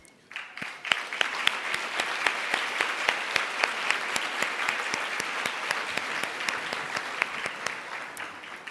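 Applause for political candidates at a gala, steady clapping from a modest crowd with distinct individual claps standing out throughout, moderately distant and without talk.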